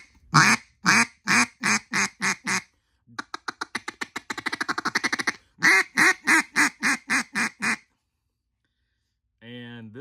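A duck call blown in close, loud bursts: a run of evenly spaced quacks, then a fast rapid chatter, then another steady sequence of quacks, with a brief raspy note near the end; no talking.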